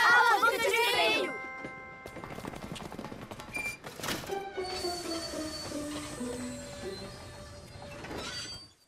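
A cartoon train rolls along its rails with rhythmic clattering, squealing wheels and a brief whistle, mixed with music and sound effects at moderate loudness.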